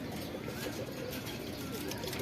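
Shahjahanpuri pigeons coo softly in a loft over low background noise in a brief stretch.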